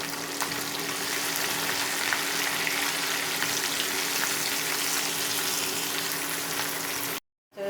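Whole dried chilies fry in mustard oil for a beef pickle, a steady close hiss and crackle that runs unbroken before cutting off abruptly near the end.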